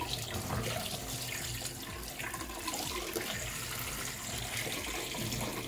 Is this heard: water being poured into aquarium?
yes